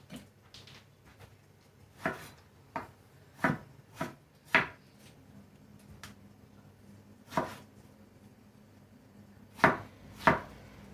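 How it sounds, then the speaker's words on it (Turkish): A knife chops tomatoes into large pieces on a cutting board, about a dozen sharp, irregular knocks spread out with quiet pauses between. "Domatesleri eriteceğimiz için büyük büyük doğrasak da kafi."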